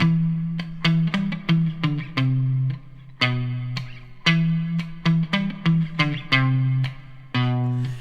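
A distorted electric guitar riff through an octave pedal, thick octave-doubled tone, choppy repeated notes and short pauses, played loud and close with no voices.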